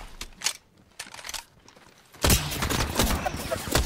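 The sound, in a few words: enemy gunfire in the video game Apex Legends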